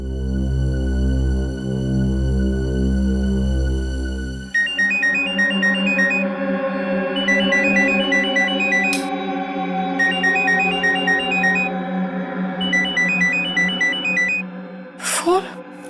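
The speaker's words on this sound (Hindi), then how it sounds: "फोन? किसका फोन है?" A mobile phone ringtone plays as a repeating electronic melody in steady phrases through most of the scene, sounding under a dramatic background music score with brief talk in Hindi around it.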